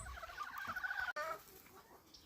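Laying hens cluck in a coop, a close, busy run of clucks cut by a sharp click, then fainter clucking.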